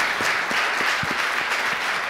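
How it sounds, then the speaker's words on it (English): A studio audience applauds guest Jason Gay on a New York talk show, a steady, thick wash of clapping, fairly loud and close, continuing without a break and with no talking over it. "Round of applause for Jason Gay"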